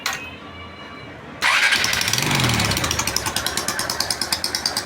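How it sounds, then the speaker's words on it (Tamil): A Honda Unicorn motorcycle that has had starting trouble fires after its valve adjustment, cutting in abruptly from a quieter hum to a loud, close, steady idle with an even rapid thumping pulse. "இப்போ வண்டியை ஸ்டார்ட் பண்ணி காமிக்கிறேன்."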